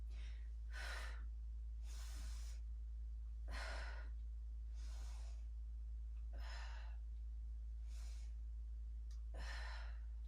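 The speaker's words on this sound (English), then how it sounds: "inhale" Deep breaths drawn during a mobility exercise set, about seven slow, airy inhales and exhales in a steady rhythm, close and clear over a low constant hum, with no talking.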